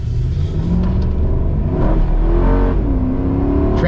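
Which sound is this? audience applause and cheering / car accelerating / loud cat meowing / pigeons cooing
car accelerating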